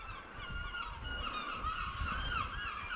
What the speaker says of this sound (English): I think every seagull in Angus has come.